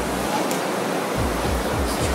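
Stormy ocean surf pounds the shore in tropical storm rain, a continuous loud roar of breaking waves and rain with low surges swelling through.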